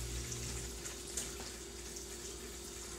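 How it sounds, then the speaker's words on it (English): Tap water runs steadily as a sweet pickle relish mixture is rinsed and squeezed by hand, a faint continuous splashing hiss alone. "I get a little bit in my hand like this, and then I rinse and squeeze"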